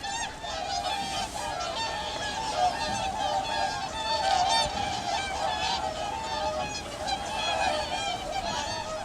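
Whooper swans feeding amid a crowd of ducks keep up a constant, layered honking, many bugling calls overlapping into a loud and steady chorus.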